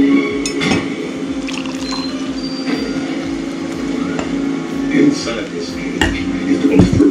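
Hot water is poured into a cup of slimming coffee, a trickling fill heard amid clinks of cup and utensils in a home kitchen.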